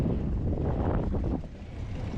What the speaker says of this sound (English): But as you can feel, the wind is quite intense.